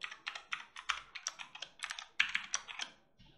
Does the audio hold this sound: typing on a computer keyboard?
yes